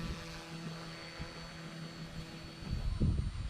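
Small Eachine E160 RC helicopter flying aggressive 3D-style maneuvers outdoors, a steady rotor and motor drone with a harmonic whine that rises into a louder, closer surge near the end; no talking.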